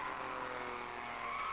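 A BMW 635 CSI race car with uprated suspension and a standard engine, competing in a 1991 saloon car race, gives a brief loud engine roar with a hint of tyre squeal, continuous and close.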